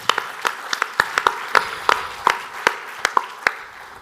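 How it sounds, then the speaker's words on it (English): Sparse applause at an airports cooperation conference panel, a handful of distinct handclaps spaced irregularly over a quiet room, close and crisp rather than a crowd swell. "Can you please give all of them a huge round of applause?"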